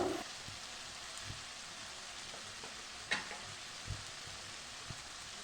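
Ground cumin, coriander, turmeric and chilli powder sizzling in a pan while fish-head jackfruit curry cooks: a steady soft fry hiss with occasional light clicks and stirring knocks, fairly quiet.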